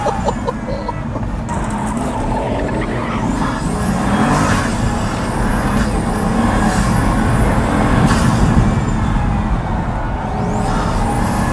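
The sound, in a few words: Pagani Huayra supercar engine accelerating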